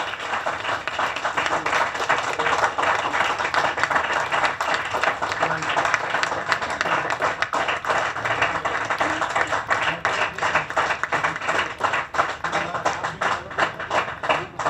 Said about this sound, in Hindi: जोरदार तालियां होनी चाहिए आपके लिए।